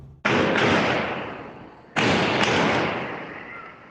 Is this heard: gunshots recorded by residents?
yes